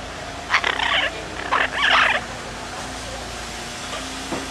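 Birds in Costa Rica let out two or three loud, raspy bursts of calling in close succession over a steady outdoor hum, then fall silent apart from a faint later chirp.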